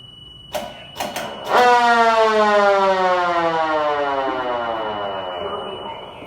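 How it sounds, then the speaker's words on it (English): A few sharp clicks, then a fire truck's spinning mechanical siren winds up into a loud, sustained wail that slowly falls in pitch, heard up close. "This is the siren that everybody hears."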